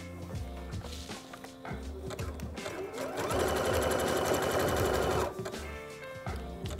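A sewing machine stitching the waistband of leggings, a steady mechanical whirr with rhythmic needle thumps that speeds up into a louder continuous run before slowing and stopping.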